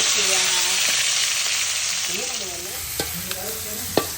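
Roasted cumin sizzles in a pan of dry potato sabzi as it is stirred, a continuous frying hiss broken by a few sharp scraping clicks of the spoon near the end.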